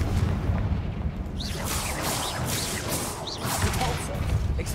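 Confringo blasting spells in Hogwarts Legacy go off as repeated booming bursts over a dense roar of battle noise and music, with several sharp blasts spread through the stretch.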